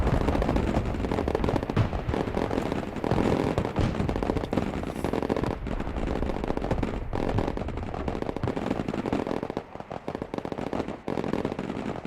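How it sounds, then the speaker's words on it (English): Gunfire in the multiplayer video game Broken Arrow, dense rapid bursts of shots and crackling reports layered into a continuous loud barrage lasting throughout. "Open fire!"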